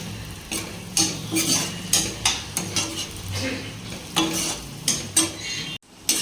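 Green chilli egg curry frying in bubbling oil in a pan, a constant sizzle broken by repeated sharp scrapes and clinks of a spoon stirring against metal, close and fairly loud.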